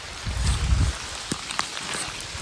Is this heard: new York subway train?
no